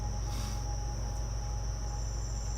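A cricket hidden somewhere in an unidentified room gives a steady, high, continuous chirping that holds evenly throughout, fairly close and with no voices over it.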